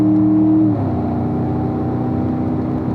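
A car on a racing circuit accelerates up through the gears toward fifth in an automatic, giving a steady, loud engine drone with a tonal shift early on as it changes gear.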